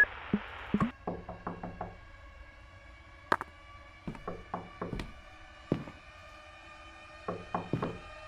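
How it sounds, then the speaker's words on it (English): Knocks on a wooden door in a video game come in several rhythmic clusters of three to five sharp raps with pauses between them, close and crisp over a faint steady hum. "I've been knocking for hours."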